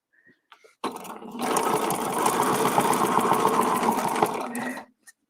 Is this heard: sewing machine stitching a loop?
yes